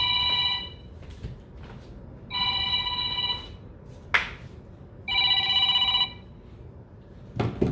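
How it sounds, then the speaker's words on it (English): A telephone rings indoors in three evenly spaced bursts of bright, trilling bell tones, each about a second long, moderately loud and close, with quiet room noise and a couple of soft knocks between rings. "Someone is calling the bat phone."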